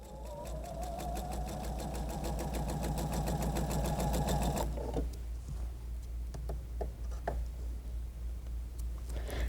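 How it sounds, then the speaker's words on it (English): A sewing machine stitches quilt fabric onto a leader strip, running in a fast, even mechanical rhythm for several seconds before stopping, followed by quieter handling clicks and rustles. "Grab my leader and sew off onto the leader."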